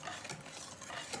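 A flour mixture is stirred gently in a bowl during a brief moment of soft, faint scraping and swishing, with no one speaking.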